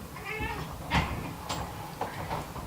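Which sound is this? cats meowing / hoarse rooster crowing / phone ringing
cats meowing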